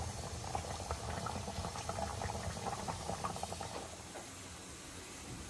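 A pot of chicken curry bubbling at a steady boil, soft continuous gurgling over a faint hiss, with no one speaking.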